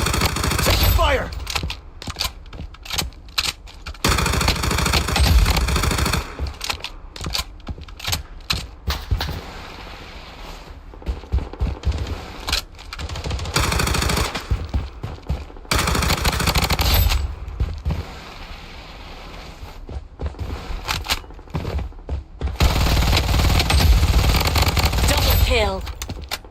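Dense, sustained gunfire in the video game Fallen City Brawl, long rattling bursts of automatic fire broken by short pauses, with game voice callouts mixed in.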